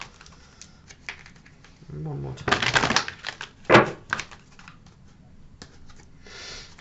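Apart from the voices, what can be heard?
shuffling a deck of oracle cards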